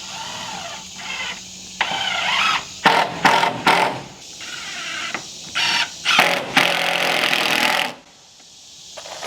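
A power driver sinks 2.5-inch screws into wooden open-frame siding on a workshop wall, with several loud whirring bursts of varying length separated by short pauses.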